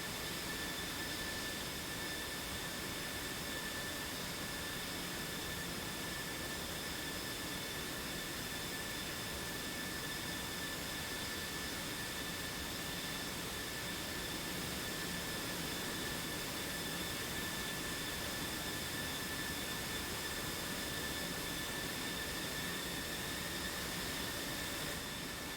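Jet engines of F/A-18 Hornets and F-16s in the DCS combat flight simulator hold a steady, even roar with a thin whine on top, continuous and unbroken for the whole stretch, with no voices.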